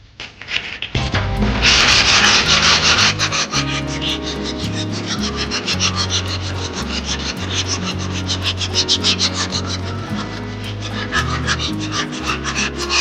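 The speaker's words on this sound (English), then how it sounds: "we'll kind of start sanding, and you'll know if it starts clumping up" Steady rubbing of 80-grit sandpaper on a splat block across fresh LiME LiNE epoxy primer during small dent repair, a continuous close scratchy rasp with rhythmic back-and-forth strokes throughout.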